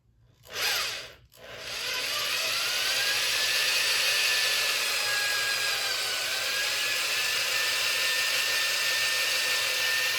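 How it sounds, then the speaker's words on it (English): A power drill whirs up after a brief start-stop burst, then runs steadily and loudly for several seconds with a slight pitch drift as it bores behind a bumper. "just start drilling"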